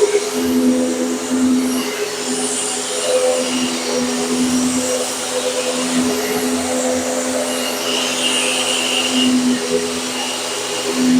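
Mid-priced vacuum cleaner running steadily with its brush roll on, a continuous loud whirring motor hum with a hissy airflow layer, close and unbroken for about eleven seconds, no talking.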